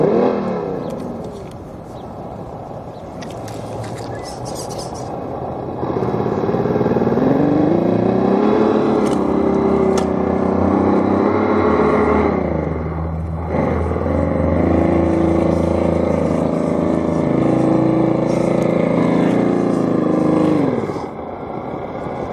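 A Marlin car fitted with a cheap Chinese sound kit rumbles and revs nearby, its droning engine tone rising and falling over about twenty seconds before cutting off.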